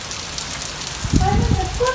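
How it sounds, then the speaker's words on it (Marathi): Steady rain hisses across the whole clip, with a low gusty rumble of wind swelling near the end. "पावसाची रापाटी जोरात चालू आहे हे जोरात म्हणजे आला आहे जरा वारा पण आहे"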